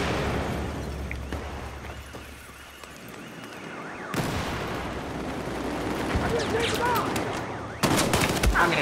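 Battlefield 4 multiplayer gunfire: bursts of shots and distant blasts over a busy battlefield din, growing louder after a sudden shift, with a voice talking at times.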